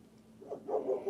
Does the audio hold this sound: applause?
no